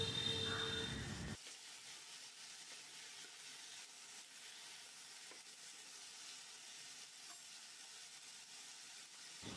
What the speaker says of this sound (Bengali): তারপরে আলুগুলোকে ভালো করে নাড়িয়ে নিলাম।